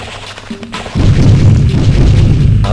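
Hand grenade exploding on a descending elevator in a retro video game: a sharp, loud boom that rolls into a sustained heavy rumble for nearly two seconds, with no voices.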